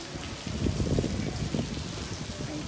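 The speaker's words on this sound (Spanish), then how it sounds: "Miren cómo está el día aquí. Al final terminó lloviendo." Rain falling steadily on a cloudy, rainy day, a continuous soft patter and wash of drops on surfaces, fairly close and even throughout.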